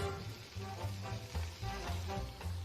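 Vegetables and chopped garlic seasoned with salt and pepper sizzle steadily in a hot pan, a close, continuous frying hiss with faint stirring scrapes.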